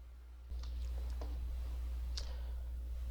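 A computer mouse clicks a few times, with sharp, faint, separate clicks over a steady low hum while someone works in Google Sheets.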